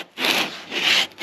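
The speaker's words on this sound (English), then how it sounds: "If I stay over the top of the work as I'm sanding it and going round" Sandpaper rubs by hand along a wooden edge on a boat fitting, rounding it off in two close, even rasping strokes with a short pause between them.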